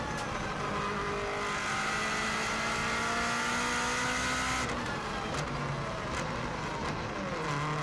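A 2016 Subaru WRX STI racing uphill on the Isle of Man TT course, its engine roaring loudly and steadily from inside the car, the pitch climbing through the revs before a gear change midway.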